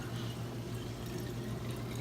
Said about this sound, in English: take your kombucha and just start pouring it into the containers